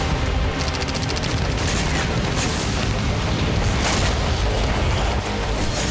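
Explosions from a Russian missile and drone attack, a dense, continuous roar of booms and rumbling blasts with no quiet gaps, loud and overlapping throughout.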